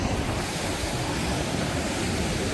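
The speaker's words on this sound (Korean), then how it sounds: "파도가 많이 났습니다" Surf breaks steadily on the sandy beach beside Songjiho lagoon in Goseong, Gangwon, a continuous loud wash of waves mixed with wind roar and no voices.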